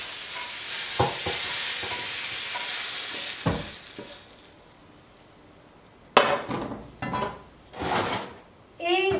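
Chicken frying in a pan for fajitas with chile and onion, a soft steady sizzle broken by a few clattering stirs and scrapes of a utensil, then louder bursts of sizzling as more ingredients go in; a voice speaks briefly.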